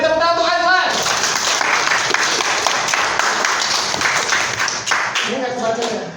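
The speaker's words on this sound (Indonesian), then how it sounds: "Beri tepuk tangan untuk Azlan" A classroom of students bursts into brisk, dense clapping for a classmate, sustained for several seconds, with voices heard just before and at the tail end.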